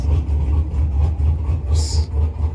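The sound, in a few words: Dodge Charger engine revving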